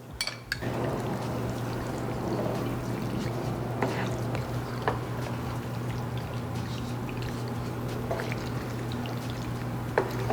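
Pickle juice from pickled jalapeños pours steadily for several seconds over a constant low mechanical hum, with a few faint clinks.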